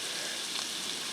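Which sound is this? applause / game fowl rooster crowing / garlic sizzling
garlic sizzling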